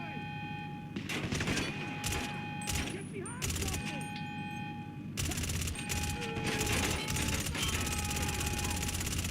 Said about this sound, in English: Mag dump.